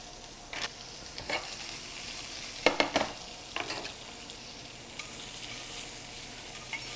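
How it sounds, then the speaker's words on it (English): Shrimp and salmon sizzling in a hot pan as a restaurant chef stirs them, a steady frying hiss broken by a few sharp scraping stirs near the middle. "Add the shrimp and the salmon first."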